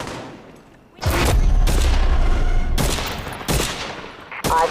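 Heavy gunfire from The Division 2 erupts in several loud, sharp volleys of rapid shots and booming impacts, close and dense, after a quieter opening second.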